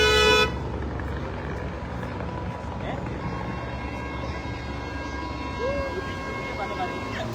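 A car horn honking on a city street in Montreal, with sustained and repeated toots over steady traffic rumble, the loudest burst at the very start, then continuing under the road noise.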